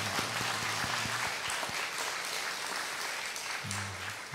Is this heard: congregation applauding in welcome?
yes